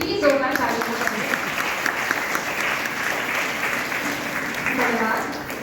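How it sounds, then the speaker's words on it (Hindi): Audience at a college Women's Day celebration claps steadily throughout, a dense continuous patter filling the hall with faint voices mixed in. "कार्यक्रम है हमारा तो आपकी ताली भी चाहिए"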